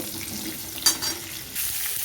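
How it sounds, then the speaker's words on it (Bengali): Potol (pointed gourd) frying in oil in a kadai gives a continuous hissing sizzle, broken by a brief louder burst midway and a rise in crackle near the end. "এবারে ওই তেলের মধ্যে আমি পটলগুলোকে দিয়ে দিলাম পটলগুলোকে আমি ভেজে তুলে নেব"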